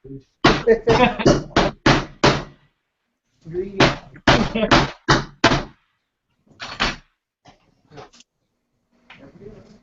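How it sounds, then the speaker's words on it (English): Holes being cut in wooden ribs for a jig, sharp rapid wooden knocks and thuds close by, coming in dense bursts with pauses between them and a few faint scattered taps at the end. "He trying to cut some holes in ribs for a jig."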